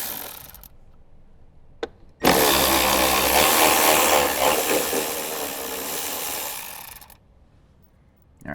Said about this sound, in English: We're going to remove the 2 10mm bolts from the A-pillar trim and the 2 10mm bolts from the dash speaker.